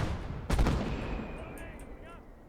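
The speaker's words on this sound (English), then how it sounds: "was that genuinely my own mortar?" A mortar shell explodes in the World War II game Call to Arms: Gates of Hell, one sharp, loud blast followed by a rumbling decay and faint echoing battlefield noise.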